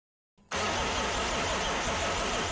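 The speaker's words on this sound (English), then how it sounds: "we try and fire up this M57 engine here behind me" After a moment of silence, a BMW M57 diesel engine swapped into a Toyota Landcruiser cranks briefly and catches, settling into a loud, steady, rough running rumble.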